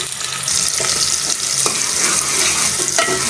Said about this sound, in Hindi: प्याज अब ब्राउन हो रहा